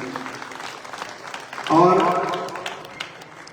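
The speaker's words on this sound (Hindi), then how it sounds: "संतराम जी के लिए अच्छी ताली बजा दीजिए।" Audience applause for a honoree at a religious saint's nirvana festival evening gathering in Udaipur, a burst of clapping rising midway and fading, with a voice audible over it.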